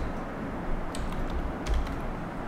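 Keystrokes on a computer keyboard, a few light clicks clustered around the middle of a quiet stretch, faint and close against low background hiss.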